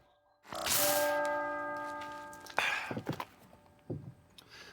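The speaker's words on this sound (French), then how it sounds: "Ouh, des cloches. C'est-tu un mariage," A bell struck once, its bright ringing tone sustaining and slowly fading for about two seconds, followed by a few dull knocks and thumps, with no talking.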